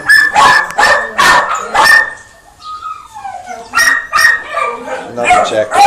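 Puppies at the Wagga Wagga dog pound bark and yip in quick, close bursts. A brief whimpering whine falls in the middle, then a fresh round of sharp barking follows.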